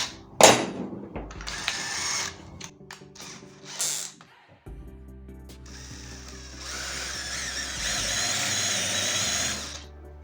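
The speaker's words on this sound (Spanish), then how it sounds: "Para eso voy a ocupar esta broca." A drill bit widens a hole in wood, opening it into a slight cone at the tip while making a wooden dowel, with rough grinding and ratcheting bursts early on, then a steadier, louder drilling whir toward the end, no talking.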